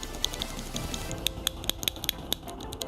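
Keys clack on a budget mechanical keyboard from Temu with its own branded switches, a sparse run of crisp close taps that quicken into a brisk typing burst.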